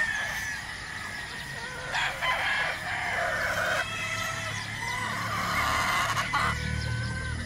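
Young gamefarm pullets cluck and crow loudly nearby, several birds calling over one another in overlapping squawks and crows against steady farmyard background noise.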